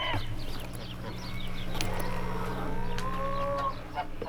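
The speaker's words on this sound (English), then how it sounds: "I hear growling." Hen in a farm coop giving low grumbling, growl-like clucks over steady background hum, with a few brief higher bird calls and a longer tonal call near the end, close and moderately loud.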